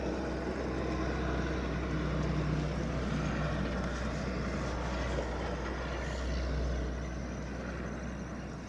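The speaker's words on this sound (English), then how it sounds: "Can you hear that logging truck coming by?" A logging truck passes on a road through the woods, a steady low engine rumble at moderate distance that swells slightly and then eases away.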